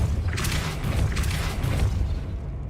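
Depulso spell blast in the video game Hogwarts Legacy: a continuous, booming burst with rumbling low end and a few surging whooshes, loud and steady for under three seconds with no talk.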